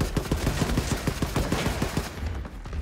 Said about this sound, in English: I love these incendiary bullets.